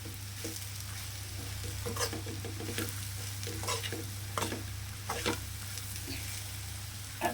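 Bitter gourd frying in plenty of oil, a steady close sizzle with a low constant hum beneath and intermittent spatula stirring strokes, no speech.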